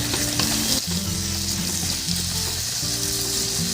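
Chicken and ginger stir-fried in a heavy pan, a loud, steady close-up sizzle with scraping and stirring throughout, no voices.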